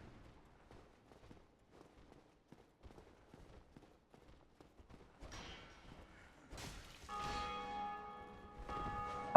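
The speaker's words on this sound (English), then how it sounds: "the ringing of the bells when we hear it means someone else has defeated the Bell Gargoyles" Bells ring in the Dark Souls video game, starting faint behind scattered footstep-like thuds and swelling into a loud, sustained, resonant peal toward the end.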